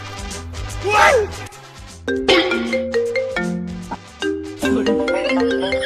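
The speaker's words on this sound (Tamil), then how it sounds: "ஃபோன் அடிக்குது, எடு." A mobile phone rings loudly nearby with a bright, melodic ringtone of repeating chime-like notes that climb and fall, playing on for several seconds, with brief voice-like sounds near the start.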